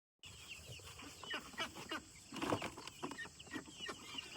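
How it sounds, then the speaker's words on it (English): A male duck calls loudly and repeatedly among chickens in a backyard poultry yard, a string of raspy, uneven honks and quacks with a louder burst midway. "does anybody know if that sound is a boy duck sound?"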